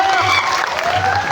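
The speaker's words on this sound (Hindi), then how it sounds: "तालियां बजाए कृपया।" A crowd at a tribal cultural unity conference in Bagidaura bursts into brief applause, loud and close, with a voice sounding over it.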